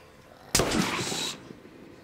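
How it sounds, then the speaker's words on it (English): A single loud burst of gunfire from the survival video game Survive the Nights, a sharp crack followed by about three-quarters of a second of noisy rumble before it cuts off, heard alone with no talking. "Someone shooting?"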